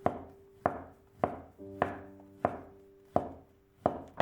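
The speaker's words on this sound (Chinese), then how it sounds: "最后用刀剁一剁" Shiitake mushrooms, already sliced and diced, are minced with a knife on a cutting board: seven sharp, evenly spaced chops, close and distinct, with no talk.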